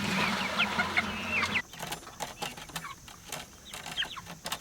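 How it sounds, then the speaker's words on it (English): Backyard chickens cluck and squawk nearby, quick scattered calls over a low hum that cuts out partway, leaving sharp intermittent clucks in a quieter space; no talking. "These are our pandemic chickens."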